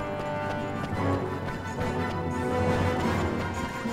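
Horse hooves clip-clop in the Ni No Kuni video game, a quick, even run of hoofbeats heard together with steady background music, with no talking.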